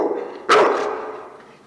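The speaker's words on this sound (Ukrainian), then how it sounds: "За дверей чути гавкіт." A dog gives a single sharp bark behind a closed apartment door on the third floor, muffled and echoing briefly in the stairwell.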